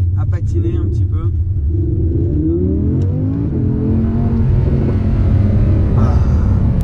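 An Audi R8 V10 Plus sports car accelerates, its engine note climbing steadily from a deep rumble into a rising whine, loud and close, with voices talking over it.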